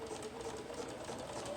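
A sewing machine stitches fabric for a zipper pencil bag, giving a steady, close, continuous whir with a fine mechanical patter throughout and no talking.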